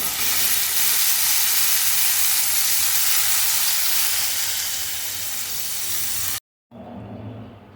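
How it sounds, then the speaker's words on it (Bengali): Chicken pieces frying in a pan, lightly browning on both sides, a loud, steady close-up sizzle and hiss that runs on unbroken, cuts out abruptly, then resumes more quietly. "এবার বাকি মাংসগুলোকেও একই রকমভাবে বোথ সাইড হালকা বাদামি করে ভেজে নেব"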